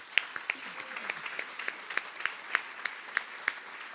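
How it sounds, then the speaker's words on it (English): Scattered applause from a small group after a call to thank the organizers of a presentation, with sparse, distinct claps in an uneven rhythm, fairly quiet, over a low murmur of room noise. "Let's just have a quick round of applause for the people that made this possible"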